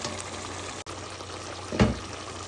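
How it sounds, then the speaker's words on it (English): A single short splash and plop as squash pieces drop into a pot of simmering chicken curry, rising briefly above a steady low bubbling hiss. "I'm gonna add in the squash."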